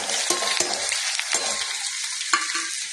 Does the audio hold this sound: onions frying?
yes